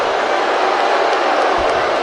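An arena crowd in the wrestling game WWE 2K19 roars and cheers in a steady, dense wash of noise that stays loud and unbroken throughout.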